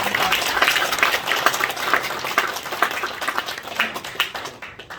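Audience applauding at a graduate school of theology degree ceremony, a steady, dense wash of clapping that holds for several seconds and tapers slightly at the end, with faint voices underneath.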